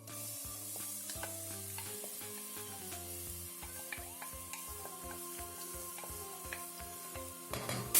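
Onion and garlic sautéing in oil with a bay leaf while rice is being made, a steady close sizzle with rhythmic stirring scrapes throughout and a clatter at the end.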